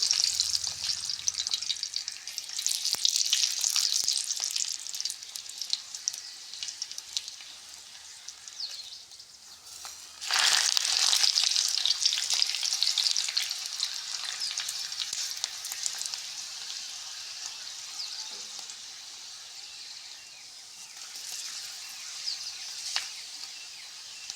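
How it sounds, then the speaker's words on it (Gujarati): Steady hissing and crackling of papad frying in hot oil, running continuously and growing briefly louder partway through. "પાપડ આપણે તળવા નાખ્યો"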